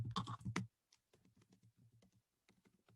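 Rapid typing on a computer keyboard, close and fairly quiet, with an opening flurry of louder clacks followed by lighter scattered key taps.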